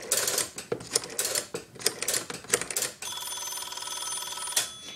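Dial pulses and clicks from a Northern Electric 233QF three-slot payphone working a 207C step-by-step switch, a rapid train of mechanical clicks followed by a steady ringing tone near the end.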